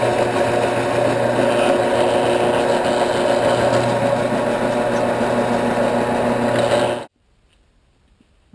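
A power drill with a countersink bit bores into wood, running as a steady, loud mechanical whine for about seven seconds before cutting off abruptly into near silence.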